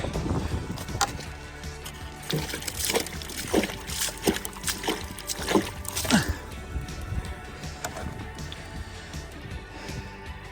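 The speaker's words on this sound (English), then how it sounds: "You can hear the water filling." Water runs and trickles steadily into a tank, with scattered splashes and knocks rising over the flow before it settles back to a constant rush.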